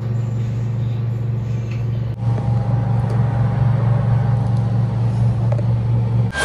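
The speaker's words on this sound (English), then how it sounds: "Bus." Bus engine idling and rumbling nearby, a steady low hum with a sharp shift partway through as the motor note changes, continuing loudly to the end without speech.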